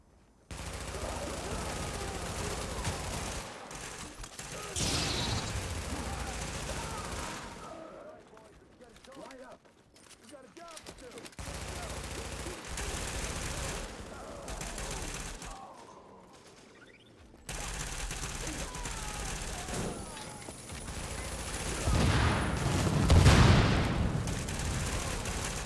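Enemy gunfire in The Division, a video game, comes as bursts of automatic fire and scattered shots mixed with booms and game effects, loud at times and dropping in and out across the stretch.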